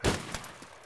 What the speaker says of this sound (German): Nimm mir jetzt das Scharfschützengewehr hier. Komm, schieß.